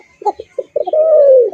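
A cocker pigeon coos close by, giving a few short soft notes and then one long drawn-out coo, with no voices.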